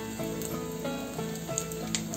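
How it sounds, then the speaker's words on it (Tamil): Mustard seeds and dried chillies crackle in hot oil, a dense close sizzle with quick popping spatters scattered through the short stretch. "எண்ணெய் காஞ்சிச்சு, நம்ம கடுகுண்டு போட்டுக்கலாம்"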